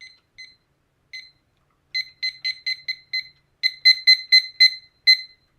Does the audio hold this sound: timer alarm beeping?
yes